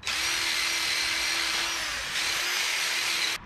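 A wire wheel spun on a power tool in a garage while working on an old mini U-Haul box truck: a loud, steady high whine that dips briefly and then runs again before stopping.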